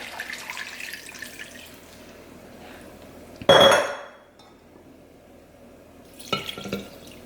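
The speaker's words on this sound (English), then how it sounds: "Now you're going to add your 4 quarts of water." Water runs from a tap into a pot for homemade bone broth, a faint rushing stream with a sudden loud splashing pour, then quieter running and a few clinks of glass or metal.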